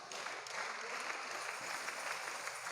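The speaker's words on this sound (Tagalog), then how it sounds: "Palakpak." A church congregation claps together during a service, a steady wash of applause from many hands heard at a moderate distance, continuous and even for a few seconds.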